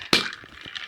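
Ice cubes dropped into a metal cocktail shaker tin for a Clover Club cocktail, one sharp crack followed by a few softer clinks.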